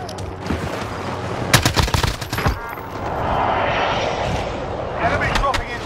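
Ammunition cooking off in a prison courtyard during a shooter video game, a burst of sharp popping cracks clustered mid-clip, followed by a steady wash of rumbling noise and a few later pops.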